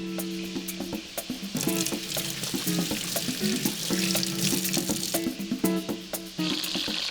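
Chicken pieces browning in a pot for coq au vin, a steady close sizzle and crackle of hot fat with bursts of popping, running continuously, while a background hum and running water come in near the end.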